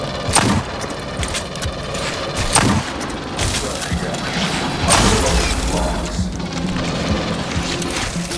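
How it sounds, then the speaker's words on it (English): Sentry guns in Aliens: Fireteam Elite fire continuous heavy bursts, with booming impacts and mechanical clatter forming a dense, loud barrage throughout. "Sentry guns ahead."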